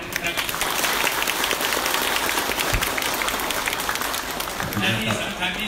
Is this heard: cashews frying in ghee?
no